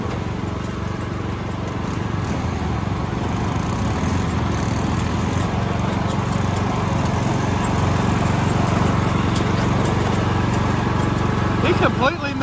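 A Cub Cadet riding mudding mower with a Kohler engine drives along a muddy woodland trail, its engine droning loudly and continuously, with voices heard over it.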